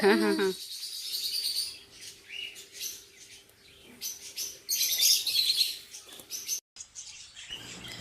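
Pet birds kept in a house chirp and twitter in quick, bright bursts across the stretch, with a faint steady insect-like drone beneath and a brief silent gap near the end.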